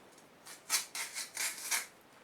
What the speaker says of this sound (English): Just use my thumb now to scrape out this pith.